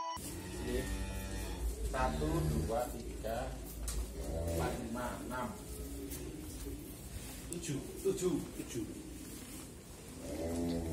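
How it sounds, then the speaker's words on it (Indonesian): Cattle in a cow shed holding about thirty head moo repeatedly, with deep drawn-out calls near and far and some overlap, while people talk and birds coo faintly in the background. "Di kandang beliau sendiri terdapat 30 ekor sapi"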